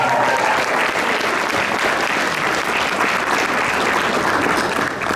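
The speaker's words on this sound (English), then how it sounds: "one more big round of applause" Wedding reception guests clap for the maid of honor in a loud, full, sustained round of applause that runs unbroken for about five seconds.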